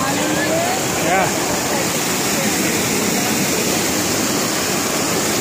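Water rushing loudly and steadily down a natural rock water slide, a dense close roar that fills the whole stretch, with faint voices briefly audible over it.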